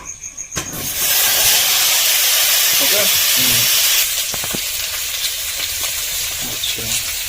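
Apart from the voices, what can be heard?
potatoes frying in oil in a wok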